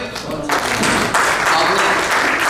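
Applause at a Pakistani community annual dinner and awards event in Chicago, a dense burst of clapping swelling after the first half second and holding steady and loud, with voices mixed in.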